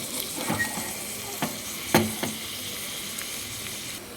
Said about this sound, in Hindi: इसको हम हल्की आंच पे जब तक वो पूरा ब्लैक हो जाता है तब तक भून लेंगे।